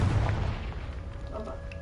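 A Confringo spell explodes in the video game Hogwarts Legacy, producing a deep, booming blast at the start that decays over about a second into a faint rumbling tail.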